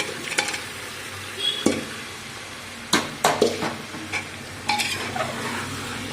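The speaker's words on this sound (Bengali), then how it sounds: "এঁচড় কাটাগুলো দিয়ে দিচ্ছি" Chopped young jackfruit sautés in oil with meat and spices, giving a soft continuous sizzle broken by several sharp scrapes and clanks of a spoon stirring in the pan.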